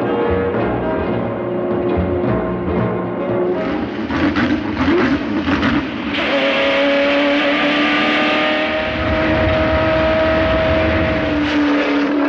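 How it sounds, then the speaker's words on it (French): Rally cars leave the start of the Monte-Carlo Rally, engines revving and droning past at fairly close range, with pitch shifts as one accelerates away. "Départ du rallye de Monte-Carlo."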